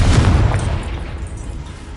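A low, rumbling fire-blast explosion from a spell cast in Hogwarts Legacy, loud at first and then decaying into a dull roar over two seconds.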